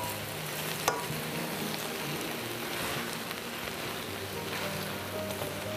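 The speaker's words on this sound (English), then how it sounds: "So stir fry your vegetables for a few minutes in the oil" Vegetables stir frying in oil give a steady, even sizzle throughout, soft and continuous with faint scraping stirs and small crackles, no talking.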